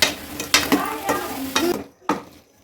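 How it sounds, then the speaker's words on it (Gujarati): Manchurian balls being stirred into sauce in a hot pan: scraping spoon strokes come in repeated bursts over a steady sizzle, then stop briefly before one last scrape. "હવે આપણે બધી મંચુરિયન ગોટી આની અંદર એડ કરશું, સારી રીતે મિક્સ કરી દઈશું"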